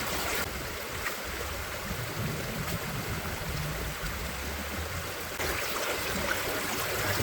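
Water rushes steadily through a gold panning sluice box in suburban Denver, Colorado, with a continuous close, even splashing flow and no pauses.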